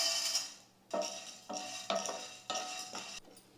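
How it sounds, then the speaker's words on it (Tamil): Chana dal is dry-roasted in a pan, stirred in four or five distinct scraping strokes separated by brief pauses, close and fairly quiet. "சூடு வச்சுக்க போகிறேன் நான் இப்போ கடலைப்பருப்பு சேர்த்துக்கிறேன்"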